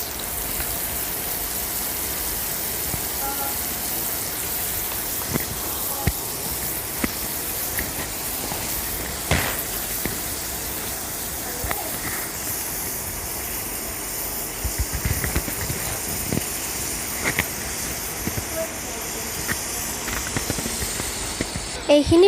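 Mutton pieces sizzle and hiss steadily as they fry in a pan for an Assamese-style mutton curry, with salt added, a continuous close crackle punctuated by a few sharper pops and spits.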